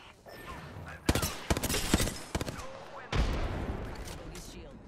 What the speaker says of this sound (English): Shot three, firing missiles. They're shooting at me.